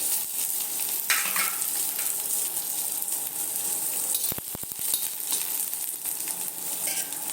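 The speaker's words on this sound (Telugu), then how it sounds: "ఇప్పుడు ఇంకో కొంచెం ఆయిల్ వేసుకుని ఎప్పుడు మన నూడిల్స్ చేసేటప్పుడు హై ఫ్లేమ్లోనే ఉండాలండి వెల్లుల్లిపాయలు" Garlic stir-fried in oil over a high flame for noodles, giving a steady loud sizzle with scraping stir strokes and a short burst of clinks partway through; no talking.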